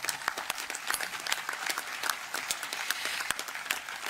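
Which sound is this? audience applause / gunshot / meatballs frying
audience applause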